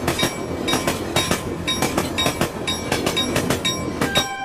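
A train sound effect for a children's animal ABC song: a clattering, rhythmic clickety-clack of rail wheels rolling close and loud, repeating at an even pace with faint metallic squeals, and no voices.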